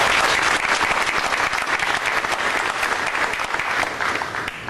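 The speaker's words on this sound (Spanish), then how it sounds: "a quien también aplaudimos" Audience applause at a book launch event, dense sustained clapping from a crowd filling the room for several seconds before easing slightly at the end.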